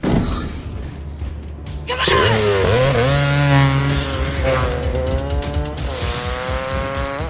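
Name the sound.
motorbike chase scene from Terminator 2: Judgment Day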